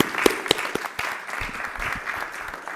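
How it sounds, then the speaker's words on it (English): A forum audience at the UPU World Leaders Forum 2022 gives a short, moderate round of applause, steady dense clapping with a few sharper claps near the start. "So you deserve an applause."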